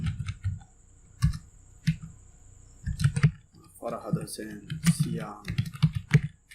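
Keys on a computer keyboard clatter in quick irregular bursts as names are typed into a JavaScript array, with a person's voice talking over part of the typing.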